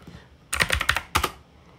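Typing on a computer keyboard in a terminal, two short bursts of rapid close keystrokes with a brief pause between, fairly loud and without speech.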